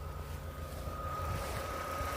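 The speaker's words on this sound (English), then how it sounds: "Yeah, nice smooth engine." A VW Golf GTI Mk4 with the 1.8T engine idles smoothly and steadily nearby, a low continuous hum with a faint whine and no talk.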